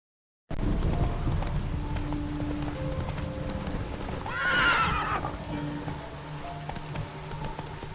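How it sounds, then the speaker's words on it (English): Horse in The Witcher 3: Wild Hunt, heard as steady clip-clop hooves with a loud whinny in the middle, all set against game ambience and background music. "Whoa there, Roach."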